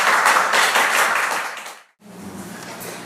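A church congregation claps in welcome as a man comes forward to speak, a dense, steady burst of applause that fades out, then a few scattered claps continue more softly in the room.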